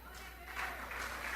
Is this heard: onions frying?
no